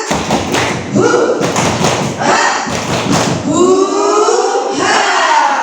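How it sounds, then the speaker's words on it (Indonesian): A seminar audience performs the tepuk semangat spirit clap and chant together, with rhythmic group claps and thumps punctuated by loud shouted unison calls, near and energetic, ending in a sustained collective cheer. "1, 2, 3, tepuk semangat."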